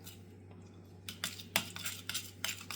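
A spoon mixes a muttabaq filling with salt and black pepper in a bowl, giving irregular clinks and scraping bursts that grow busier after the first second over a steady low hum.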